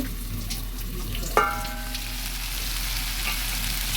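Kechki fish simmering with flat beans and potato in a pan, gently stirred, a soft steady sizzle with a single sharp clink of the utensil against the pan partway through.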